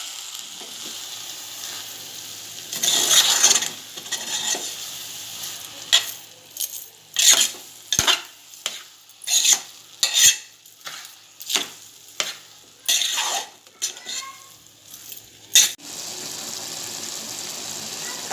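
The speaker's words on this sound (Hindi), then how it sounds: "शक्कर वगैरह सब ड्राई फ्रूट्स है उन चावल में अच्छे से मिक्स करूँगी।" A spoon stirs sugar and dry fruits into cooked rice for zarda, giving a series of distinct scraping and clinking strokes against the pot in an uneven rhythm over a light background hiss.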